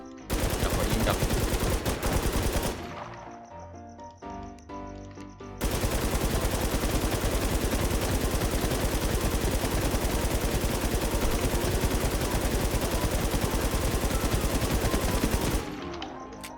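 Rapid automatic gunfire from the video game Warz JapanZ, loud sustained bursts that pause briefly for a couple of seconds before resuming in a long continuous stream.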